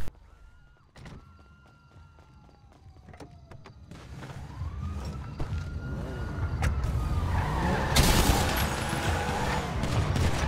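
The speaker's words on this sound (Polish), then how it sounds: "I policja mnie goni, policja mnie goni." A wailing police siren in a chase in the video game GTA V Online rises and falls amid engine roar, clattering crashes and bursts of gunfire-like noise, growing louder and busier toward the end.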